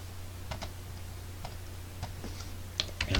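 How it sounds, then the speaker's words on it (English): Short bursts of keystrokes on a computer keyboard while entering a command on a Windows 10 PC, a few quick clicks then a pause and a faster cluster at the end, close and moderately loud. "type in command"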